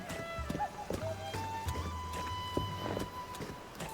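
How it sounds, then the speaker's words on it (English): In Tears of the Kingdom, a horse walks through a town with hooves clip-clopping at a slow, uneven pace and an occasional whinny-like note, set against steady game music. "Horses won't run in town"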